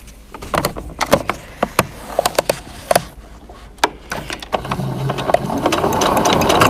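A domestic sewing machine runs in short bursts while back tacking fabric for a Covid-19 face mask, sharp mechanical clicks and whirs separated by pauses, ending in a longer steady stitching run.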